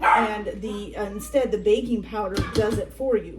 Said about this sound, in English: Excuse my dog. She's barking at my kitty.